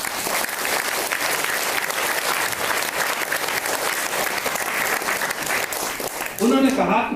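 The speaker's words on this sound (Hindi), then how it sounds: "एक बार ऊपर हाथ करके ताली बजा दे हम सब लोग।" An audience claps together with raised hands at a Hindi-language talk, a dense, steady wash of clapping that fills the room for several seconds before breaking off into a brief burst of voices at the end.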